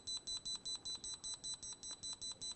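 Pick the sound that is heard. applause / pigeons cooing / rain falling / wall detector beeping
wall detector beeping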